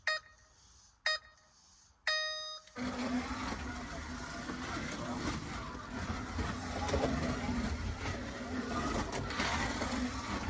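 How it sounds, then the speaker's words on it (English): An SCX BMW M3 Sport slot car runs laps on a track, beginning with a few short electronic beeps, then a steady, continuous whirring motor hum close by that holds loud and even throughout. "10 laps with the SCX BMW M3 Sport."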